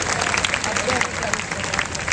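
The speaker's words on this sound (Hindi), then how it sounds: "अपने लिए जोरदार ताली बजाएंगे" Government school students clap together in a classroom, a dense, steady burst of applause that fills the whole short moment, with voices mixed in among the clapping.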